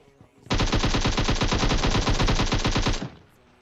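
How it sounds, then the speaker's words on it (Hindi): Loud automatic gunfire in PUBG Mobile: one unbroken rapid burst of shots lasting about two and a half seconds, close and dominant, with no talk over it. "अब यहां पे गोलियों की आवाज जोर से आती है।"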